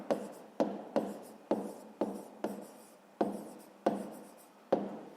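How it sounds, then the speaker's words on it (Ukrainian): A pen writes on paper close by, with about ten short scratchy strokes spaced roughly half a second apart, each starting sharply and trailing off. "Тому ми пишемо"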